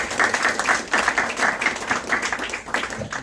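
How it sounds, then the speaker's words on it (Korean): A church congregation claps together at a thanksgiving service, a dense, lively burst of many hands that is close and fairly loud and stays steady for a few seconds. "모두에게 감사를 드리는 우리 박수 같이 하시죠."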